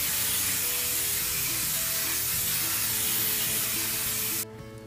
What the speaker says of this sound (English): I'm now using my Pam baking spray